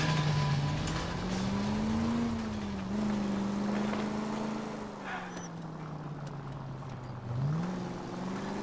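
Car engine droning in the video game L.A. Noire, a steady mid-pitched hum that rises and falls gently as it drives, continuous and fairly close.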